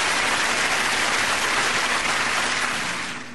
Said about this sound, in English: You need to give Lady O a hand clap on that one.